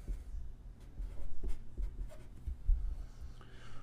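Chalk or marker writing fractions on a classroom board, heard as soft, close scratchy strokes and light taps in short bursts with quiet gaps between them, and no talk.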